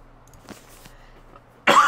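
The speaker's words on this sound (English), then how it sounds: "Cough, cough, cough." A single sharp cough bursts out near the end after a stretch of quiet, close and fairly loud, during play of the survival game The Long Dark.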